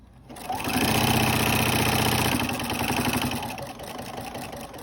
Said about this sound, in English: You're going to put your needle down, do a little back stitch, just like that, and then you're just going to go across